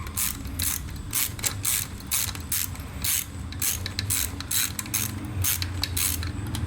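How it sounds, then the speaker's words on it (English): A ratchet wrench tightens a fastener on a Yamaha Virago motorcycle carburetor, a rapid close clicking pawl rattling in rhythmic bursts of strokes, loud and alone without speech. "And then we're going to grab our"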